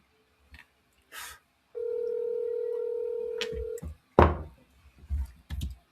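A telephone line on sales calls: a steady dial tone holds for about two seconds, then a few short bursts and clicks follow, alone without any talk.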